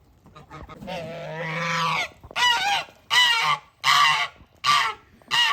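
Geese honk loudly and close, a drawn-out call followed by a steady series of separate, evenly spaced honks.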